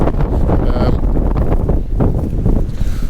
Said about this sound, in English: It's getting a bit too windy here, and it's kind of starting to rain